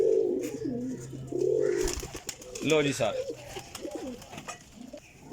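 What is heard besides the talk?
flying pigeons cooing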